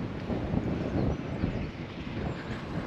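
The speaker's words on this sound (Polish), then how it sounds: "Nie no, trochę zawiewa jednak, trzeba przyznać." Wind blows across coastal dunes in Ireland, buffeting the microphone with a steady low rumble and gusty roar that stays fairly quiet throughout, with no voices.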